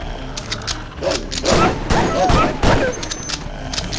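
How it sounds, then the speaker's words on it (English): Shotgun fire in the Tomb of the Dragon Emperor video game comes as a rapid cluster of loud booming blasts, several shots in quick succession, with someone talking over parts of it. "Yeah, our shotguns still exist here."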